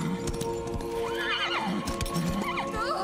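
A horse in Darksiders III whinnies in several rising, wavering calls while its hooves clop steadily underneath, close and clear.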